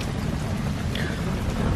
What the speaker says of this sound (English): a lot of lightning, really cool lightning. I don't think there's been any hail, but it's pretty windy out there.